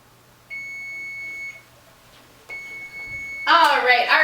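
A kitchen timer beeps while banana bread bakes: two long, steady electronic beeps with a short gap between them, followed by a person starting to talk close by.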